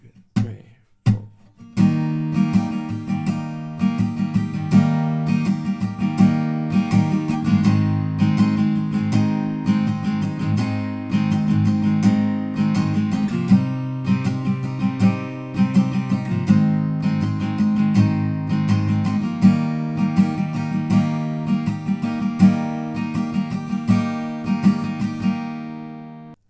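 Acoustic guitar strumming the chorus chords of a song, a steady rhythmic strum with ringing chords filling the whole passage after a brief count-in pause, loud and alone with no voice.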